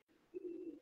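Pigeons on a rooftop in Sialkot, where blue-black pigeons are kept, give a single soft low coo, faint and close, after a brief quiet moment.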